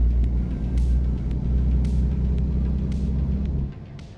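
Steady low engine drone of a truck cruising in American Truck Simulator, played through a car's sound system, with faint intermittent clicks on top and the rumble dropping slightly near the end.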